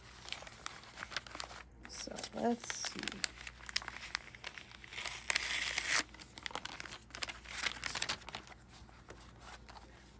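Crinkling paper wrapping is torn and opened from a Chic Sparrow Artist 10 Michelangelo notebook with a linen cover, close and busy with sharp rustles peaking near the middle, while a person speaks briefly.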